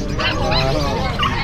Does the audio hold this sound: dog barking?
yes